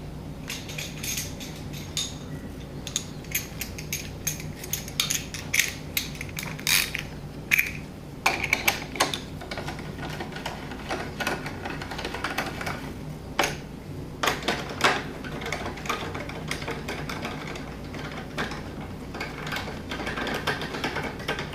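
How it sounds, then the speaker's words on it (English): A ratchet tightening 5mm Allen bolts on a Triumph Tiger 800 motorcycle air filter install, with repeated quiet close clicking and mechanical ratcheting spread throughout, no talk. "And then install your 5mm"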